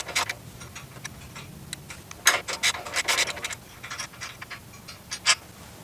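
A nut being undone on the intercooler bracket of a 2015+ S550 Mustang fitted with a Procharger, heard as close, irregular ticking and rasping clicks of a ratchet or wrench working in short bursts.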